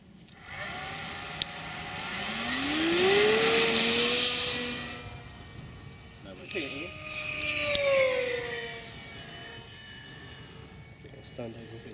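Electric RC sport plane motor on a 4-cell pack turning an 8x8 propeller, rising to a loud whine that swells and fades twice over the run, with brief speech between bursts.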